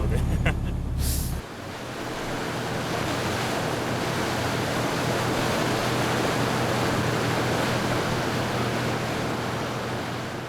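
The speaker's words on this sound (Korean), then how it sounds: "바다 한가운데로 거침없이 파도를 헤쳐나갑니다" A boat powers through ocean waves far out at sea. After a brief louder burst at the start, a heavy, steady rush of water and wind noise continues close and loud.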